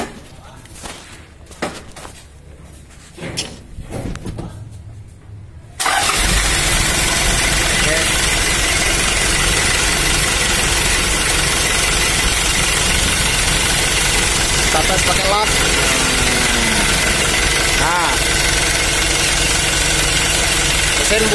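A car engine with a fan that stops and a weak viscous fan clutch starts up after about six seconds and then idles loudly and steadily, following quieter talk and handling noises.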